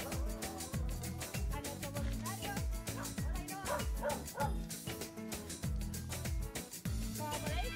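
Many dogs bark and yip continuously in animal shelter kennels, overlapping in a dense chorus with some whimpering, echoing as in an enclosure, with a voice talking underneath.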